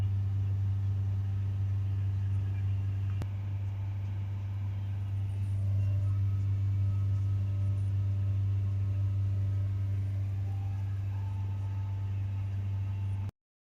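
A 2020 Ford Transit Connect 1.5 TDCi diesel with a blocked DPF is held steady at 3000 RPM, giving a loud, even drone with a constant low hum that lasts the whole time, with no talking.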